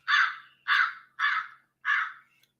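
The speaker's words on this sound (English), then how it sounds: "All we hear is the birds." Crows give four loud, harsh caws in a steady, evenly spaced series. The calls sound close and clear, and there is no other sound between them.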